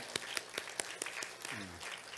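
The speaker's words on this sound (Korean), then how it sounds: "박수 한번 하겠습니다" A church congregation claps sparsely at a steady, slow rhythm, faint and somewhat distant, with a brief low voice murmuring near the end.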